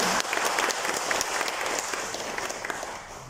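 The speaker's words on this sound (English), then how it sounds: "So they deserve a big round of applause too." Congregation applauding inside a church during a feast-day mass, a steady wash of many hands clapping with some crisp individual claps, filling the space for a few seconds without talk.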